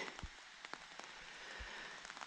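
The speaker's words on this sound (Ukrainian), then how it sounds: "А зараз десь година третя перепадав дощик грозовий." Thundery rain patters steadily on the surface during a white-mushroom foraging trip in the woods, with faint scattered drops and a couple of soft low thumps, heard alone and fairly quiet.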